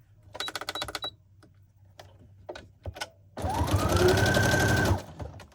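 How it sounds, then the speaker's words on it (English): A sewing machine runs a straight stitch through layered paper collage tags, with short rattling bursts, a few single clicks, and then one longer steady whirring run near at hand. "So let's go back to the straight stitch."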